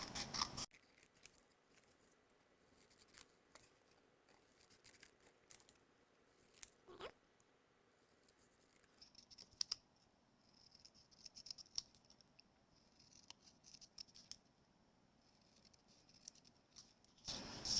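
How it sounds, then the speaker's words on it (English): Scissors snip through a paper greeting card, cutting out lines one after another in a quiet crafting setting, producing soft, close, irregular crisp clips and paper rustles with no talking. "I'm going to cut out each line of this."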